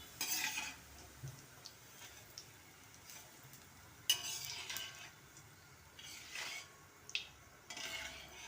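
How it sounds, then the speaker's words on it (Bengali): Potatoes frying in oil for crispy shoestring fries, stirred in the pan with repeated soft scraping and clinking strokes over a faint sizzle, moderately close with quiet gaps between strokes. "এইভাবে বন্ধুরা আমি সবগুলি আলু ভেজে নেব"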